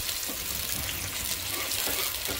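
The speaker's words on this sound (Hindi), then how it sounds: "चलो अभी प्याज फ्राई हो चुके हैं" Finely chopped onions fry in hot oil in a home kitchen, giving off a soft, steady sizzle and hiss that runs evenly without a break.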